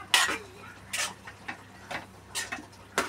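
A ladle stirs boiled chana dal into a brinjal curry in a pot, making a series of separate scraping knocks and clinks roughly every half second, close and fairly quiet.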